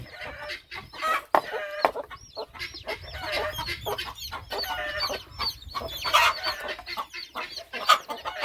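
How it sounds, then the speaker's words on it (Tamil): Several chickens cluck and squawk continuously, close and busy, with occasional sharper cries and a rooster-like call mixed into the flock noise. "ஏய் கோழி வேற தடிக்குது தடிக்கலாம் அவுத்து விடுங்க கோழிய"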